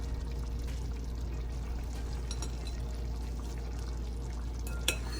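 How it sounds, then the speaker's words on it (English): Jollof rice meal prep, broth strained out of a pot of cooked meat: a steady, continuous pouring and trickling wash runs evenly throughout, moderately close, with one small clink near the end. "the broth from this, I'm gonna go ahead and I'm gonna strain it out because I'm gonna use it"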